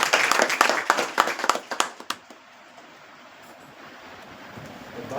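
Brisk audience applause at an award ceremony, loud and dense for about two seconds before dying away into quiet room noise.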